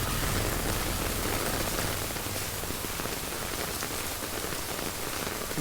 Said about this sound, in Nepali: फेरि आइपुग्यो क्या पानी त